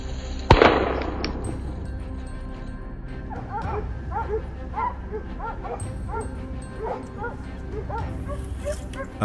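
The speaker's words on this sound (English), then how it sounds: "the barking of hunting dogs signaled the presence of a wild boar" Hunting dogs bark repeatedly in short, yapping bursts at a moderate distance amid reeds during a wild boar hunt, following a sharp bang at the start.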